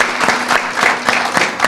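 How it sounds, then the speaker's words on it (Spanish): An audience at a business gathering applauds loudly, many hands in a dense, continuous clatter with some stronger periodic claps rising through, close and filling the room. "aplauso para ellos"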